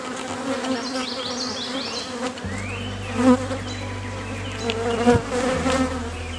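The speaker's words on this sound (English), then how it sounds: "Well, they're tearing apart their hive, so." Honeybees buzz around a hive that is being torn apart, a dense, steady insect drone with a low hum that grows heavier partway through, with no talking.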